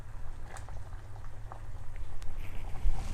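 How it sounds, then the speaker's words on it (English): Smoked pork simmers with Anishi in a pot, a soft steady bubbling with small pops and ticks that grows slightly louder, heard up close with no voices. "Guys, it's boiling nicely."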